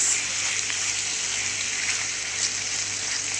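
Minced meat and onions frying in a pan on a gas stove, a continuous close hissing sizzle at steady volume with no pauses.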